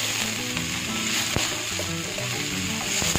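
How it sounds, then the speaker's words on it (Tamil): Onion, tomato, ginger, garlic, green and dried chilies with a little tamarind fry in hot oil for vegetable chutney, a dense continuous sizzle with faint stirring scrapes, close and loud throughout. "ஸோ இது எல்லாத்தையுமே நம்ம நல்லா ஃப்ரை பண்ணிடலாம்."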